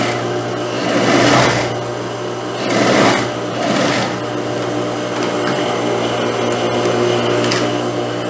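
A sewing machine stitches a seam along a blouse neckline, its fast, steady whir running close and continuous, with a few louder surges as the stitching speeds up.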